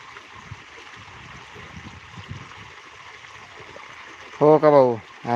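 Irrigation water trickling and gurgling through a furrow in a cotton field, a soft steady flow with small bubbling bursts, before a voice cuts in near the end.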